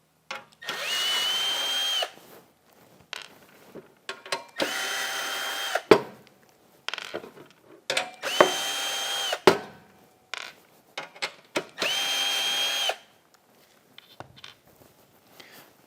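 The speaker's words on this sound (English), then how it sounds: "Here we have the bottom of the grit guard, and we'll first remove all 4 screws." Power drill whirring in four separate bursts of one to two seconds each as it backs out the screws of a MAG-8100 or MAG-8200 sharpener grit guard, with clicks and handling noises between bursts.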